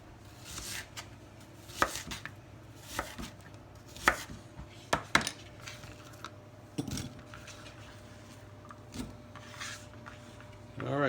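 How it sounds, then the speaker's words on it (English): Half an onion being chopped into one-inch pieces on a cutting board for roasting, a series of sharp, irregular knife thuds close by, with faint kitchen hum between strikes. "Calls for half of the onion to be cut into 1-inch pieces to be roasted"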